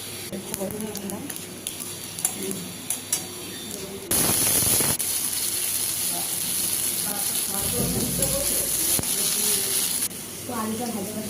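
Cumin seeds fry in hot oil in a kadai, giving a loud, steady sizzling hiss that bursts in partway and runs for several seconds, with background speech around it.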